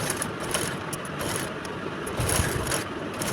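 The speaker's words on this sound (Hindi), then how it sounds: "और फिर हमें इसके ऊपर भी सिलाई करनी है एकदम किनारे किनारे पर" Sewing machine running steadily as it stitches close along the edge of fabric for a girls' palazzo, a fast even mechanical whirr and clatter, close and continuous without talk.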